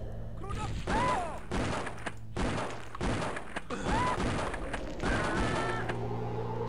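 A napalm launcher in the video game Blood firing, several loud, bursting whooshes and crashes in quick succession with whistling tones between blasts, under a speaking voice.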